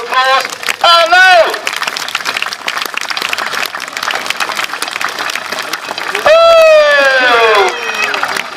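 Crowd at an outdoor village pageant with lawnmower racing applauds and cheers, dense clapping carrying on while loud voices and shouts rise over it at the start and again near the end.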